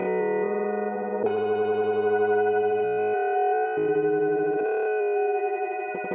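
A granular, time-stretched audio sample: a sustained, processed tone smeared into layered, shimmering textures, with stepwise pitch shifts and a grainy, stretched quality throughout.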